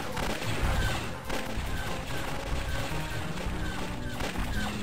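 Rapid repeated blaster fire in the TIE Fighter space combat game, a dense barrage of crackling shots and impacts running continuously and loudly throughout.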